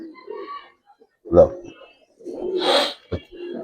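A pair of fully yellow Lenzar pigeons give short, soft coos in a few bursts, close by, mixed with someone talking.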